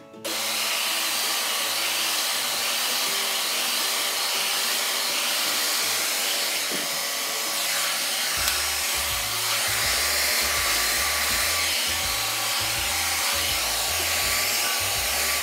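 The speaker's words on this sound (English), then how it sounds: "I'm blow drying this section, pulling it out, and then spinning it back in." A handheld blow dryer drying a section of hair around a round brush, a loud, steady close-up roar running almost the whole time, with faint brushing and handling sounds underneath.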